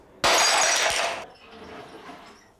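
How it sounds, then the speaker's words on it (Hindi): A flower vase smashed indoors: one sudden, loud crash of shattering material with scattered tinkling fragments, then a fainter lingering rattle as pieces settle, with no talking. "अरे जो तुम्हारी माँ ने गुलदस्ता दिया था टूट गया वो।"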